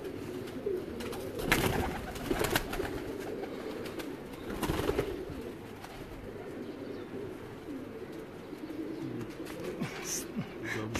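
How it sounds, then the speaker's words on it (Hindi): Pigeons coo in soft repeated throaty calls close by, with a few louder bursts and faint chirps, as someone talks in the background. "कोई होर कबूतर बहा दो"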